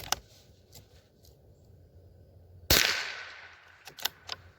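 A Howa M1100 .22lr rifle fires once from its magazine, a sharp close crack with a short ringing tail, then a few small clicks and rattles of the action afterward, no voices.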